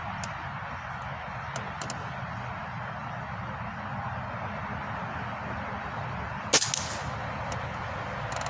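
A Benjamin Akela .22 PCP air rifle fires once at a target outdoors, a single sharp crack standing out against quiet background noise.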